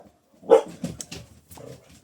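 Dogs bark in the background behind a woman's speech, with a few short barks and yips heard faintly under her voice.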